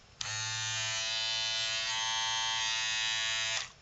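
An Andis hair trimmer runs at full speed on a full charge. Its motor gives a steady, bright electric buzz that switches on abruptly, holds for about three and a half seconds, then cuts off.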